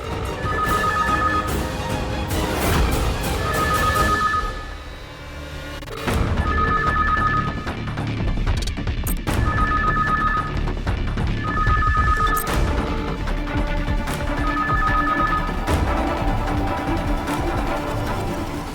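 A telephone rings in repeated double bursts over a busy background of music or ambient noise, with short pauses between the rings.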